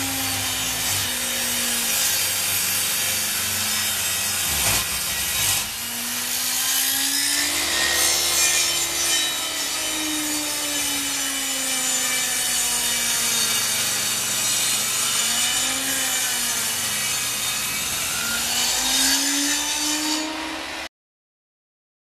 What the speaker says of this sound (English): after using the table saw, I cut the top and this bottom side